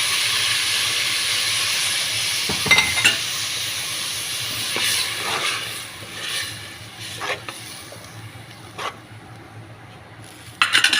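Tomato, ginger and garlic paste sizzles in a pan for fish curry, a steady hiss with occasional sharp spits and stirring scrapes, moderately close and heard alone.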